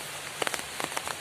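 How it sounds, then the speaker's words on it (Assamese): Heavy rain falls during a walk home under umbrellas after an Assamese wedding, heard as a steady hiss with scattered sharp drop taps close by, fairly quiet overall. "বৰষুণ দিলে, একদম বহুত ডাঙৰ বৰষুণ দিলে"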